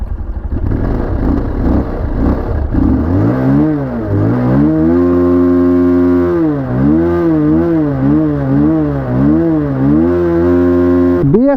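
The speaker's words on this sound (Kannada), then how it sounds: "ಗೈಸ್ ರೈಡ್ ಮಾಡೋದಕ್ಕೆ ಮುಂಚೆ ಈ ಗಾಡಿ ಎಕ್ಸಾಸ್ಟ್ ನೋಟ್ ನೋಡೋಣ ಒಂದ್ಸರಿ" A Bajaj Pulsar 220F motorcycle with a BS3 engine idles, then is revved repeatedly through its exhaust, giving loud, close, rising and falling engine notes in a steady pattern.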